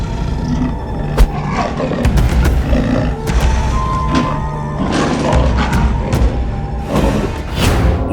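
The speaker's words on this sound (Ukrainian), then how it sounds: "Тигр." A tiger roaring and growling, a dense, loud, continuous wild-animal rumble with repeated sharp bursts throughout, filling the whole stretch without talk.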